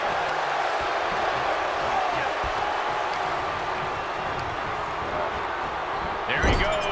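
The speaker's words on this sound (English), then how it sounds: "With every move you make, you hear this capacity crowd following you on that journey." A capacity arena crowd roars throughout a WWE 2K23 WrestleMania main event between The Rock and Roman Reigns, a dense continuous murmur of cheering with scattered whoops and a brief louder burst near the end, under commentary.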